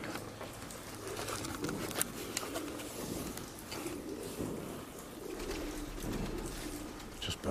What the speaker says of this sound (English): Just birds flying around.